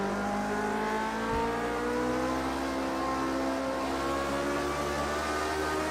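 A 1967-era race car at the French Grand Prix in the racing game Project Cars 2 produces a steady, close engine drone whose harmonic whine climbs in pitch as it accelerates, with no talk over it.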